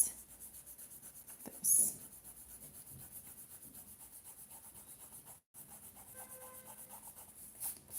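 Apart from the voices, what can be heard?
eraser lightly rubbing over bullet journal page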